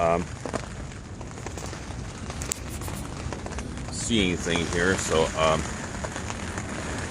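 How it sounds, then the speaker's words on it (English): Camping tent buffeted by extreme winds and blowing rain, a constant rushing patter and flapping roar close around, with someone talking briefly at the start and end. "So the tent's being buffeted."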